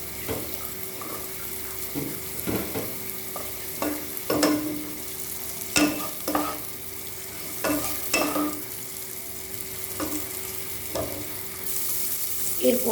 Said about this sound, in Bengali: বিনসগুলো একটু ভেজে নিতে হবে